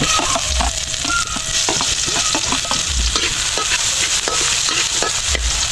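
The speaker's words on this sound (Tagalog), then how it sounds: "Bali, gigisahin mo muna." Ingredients sautéed in a pan for binaang na kuray sa gata, with a loud continuous frying sizzle and the scrape and clatter of a spatula stirring, close by and without talk.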